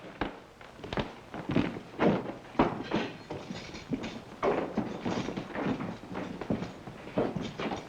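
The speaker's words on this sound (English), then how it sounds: "Open up that cell." A jail cell door in an old western is worked open, with a string of heavy metallic clanks, thunks and scrapes at irregular intervals, moderately close.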